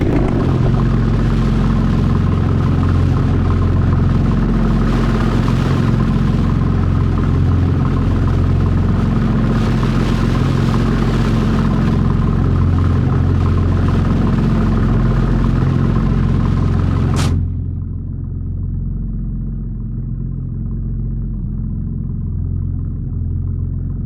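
A BMW M2 Competition engine in the BeamNG driving game drones at a steady, loud, low rumble with a rising whine, then abruptly cuts to a quieter, duller hum.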